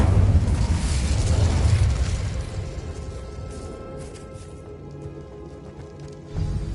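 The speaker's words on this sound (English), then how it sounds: "Incendio!" Incendio fire spell blast in the Hogwarts Legacy video game: a loud, broadband whooshing burst that rumbles and slowly fades over several seconds, with a small thump near the end.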